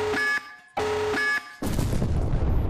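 A tactical nuke alarm in the Henry Stickmin game, a Call of Duty reference, sounds as two loud, identical electronic siren blasts, then a broad rumbling explosion-like roar that fills the end.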